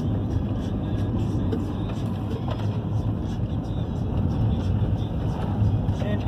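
Big vehicles and trucks travel icy roads in Iqaluit, a steady, rumbling low engine drone that continues throughout at a fairly even loudness.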